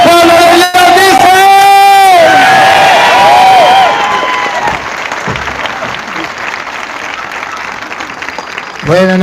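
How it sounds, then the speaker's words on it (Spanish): A Catholic church congregation bursts into loud, sustained applause after a brief raised voice and shouting. The clapping is strong at first, then thins and softens toward the end. "expréselo con un fuerte aplauso, pero fuerte, fuerte"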